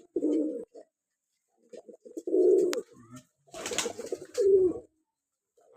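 Pigeons coo in short, throaty bursts at close range, several calls spaced across a quiet background, with a brief flutter of wings in the middle.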